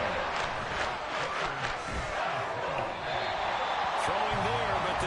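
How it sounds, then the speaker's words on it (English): Roaring stadium crowd in the Madden NFL 24 football video game, a dense, steady wall of cheering and noise with a commentator's voice talking over it. "This crowd turning up the decibel level."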